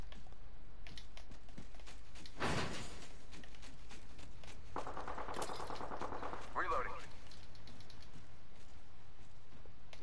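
Gunfire during an Apex Legends firefight: a sharp shot burst, then a sustained stretch of rapid automatic fire at moderate distance, under steady game noise and keyboard clatter, with a player's voice talking.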